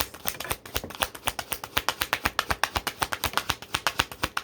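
Tarot card decks shuffled by hand, a rapid run of crisp papery snaps and riffles in a steady close rhythm, quiet and alone without talk.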